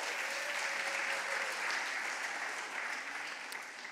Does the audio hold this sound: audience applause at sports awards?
yes